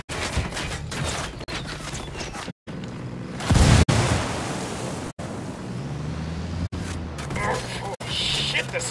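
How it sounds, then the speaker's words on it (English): Grenade blast in the video game Ghost Recon Wildlands: a single loud burst near the middle, set within steady wind and surf-like ambience and broken by brief dropouts. "Grenade!"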